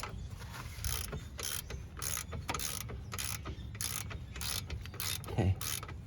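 Hand ratchet turning a socket on a brake bolt of a 2007-2010 Cadillac SRX, with a steady series of about a dozen rhythmic clicking strokes up close over a low background hum.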